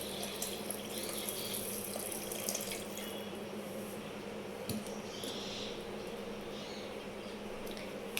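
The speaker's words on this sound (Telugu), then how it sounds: "ఫస్ట్ 2 times ట్యాప్ వాటర్తో కడిగి" Tap water runs steadily into a sink during washing and rinsing, a close, constant splashing flow with faint handling noises and occasional drips.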